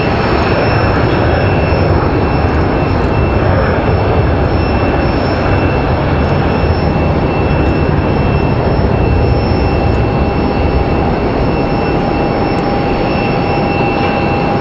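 Airliners at RDU airport in Raleigh-Durham rolling down the runway, producing a steady, loud, broad engine roar with faint high whining tones that holds constant throughout, with no voices.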